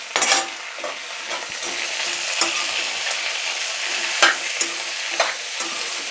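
Thickly cut tomatoes fry in a pan for a restaurant-style paneer butter masala, a continuous close sizzle broken by repeated scraping stirs and a few sharp clinks of the utensil against the pan.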